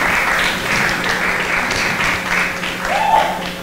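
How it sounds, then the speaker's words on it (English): Loud, close applause from an audience at a pageant event, a continuous layer of clapping with a brief higher tone and faint voices mixed in underneath near the end. "Please give her a round of applause."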